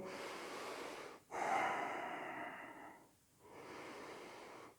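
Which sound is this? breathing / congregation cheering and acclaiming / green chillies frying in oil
breathing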